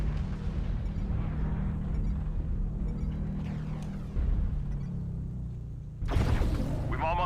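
Airstrike explosions in a video game boom over steady low battle rumble, with a heavier blast near the end and a sharp burst at the finish.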